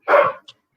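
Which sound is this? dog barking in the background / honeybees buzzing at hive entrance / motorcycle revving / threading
dog barking in the background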